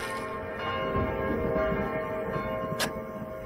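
In the video game Kingdom, bells ring with a soft, sustained metallic tone across a busy game soundscape, steady and mid-level with no one talking.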